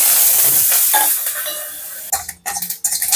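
A few curry leaves frying in hot oil in a pan, a loud close crackling sizzle with stirring scrapes, then sharper bursts of spattering and clinks of the utensil near the end; no speech.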